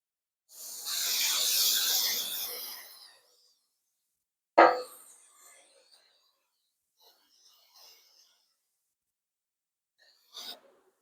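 Baker's Joy baking spray hissing into a 9x13 baking pan in one steady burst of about two and a half seconds, followed by a sharp knock and a few faint handling sounds.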